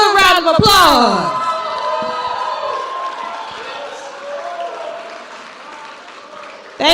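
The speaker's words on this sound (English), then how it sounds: "let's give a good round of applause." A crowd at a climate event erupts with loud whoops and a sliding shout up front, then settles into steady applause mixed with scattered cheering and voices that fade gradually.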